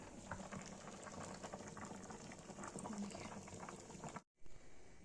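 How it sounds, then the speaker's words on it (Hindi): A thick shahi paneer gravy bubbles and boils steadily in a pan, a dense continuous gurgle that cuts out briefly near the end. "इसको उबलने देंगे।"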